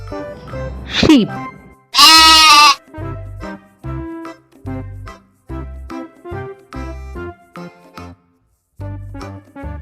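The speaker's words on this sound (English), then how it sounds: "Sheep." A sheep gives one loud, drawn-out bleat lasting under a second. It sits over a soft, steady musical backing, with no other animal sounds nearby.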